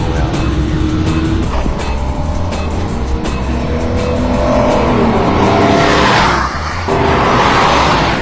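A car rounds a bend on a racetrack, its engine roaring loud and close as tires squeal and skid through the turn, the sound sustained and swelling before a brief dip and return.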